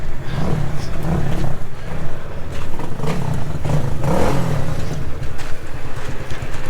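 Chinese HAWK 250 dirt bike engine revving up and down loudly and close by, with a rough, clattering mechanical tone; people talk over it throughout.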